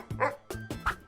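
A dog gives three quick, close yipping barks in a short, uneven rhythm with brief gaps between them.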